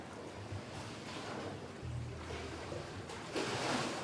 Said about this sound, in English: there's water flowing all around under here